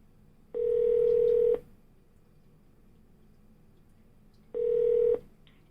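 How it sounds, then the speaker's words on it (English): A Yealink desk phone on the Comunify phone system sounds two steady electronic tones, each about a second long and about four seconds apart, clear and close against faint room hum. "Call 478-8550. Dialing 4788550."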